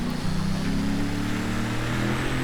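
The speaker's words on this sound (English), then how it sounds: "I'm just going to talk normal as the car is screaming over me." A Ford Raptor truck in Forza Horizon 3 roars continuously at a loud, steady engine drone with a sustained low hum and no talking over it.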